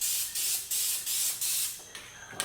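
Dupli-Color CustomWrap blue rattle-can spray paint hisses onto a truck in short, repeated bursts of roughly a third of a second each, close and loud with brief gaps between, and no talking.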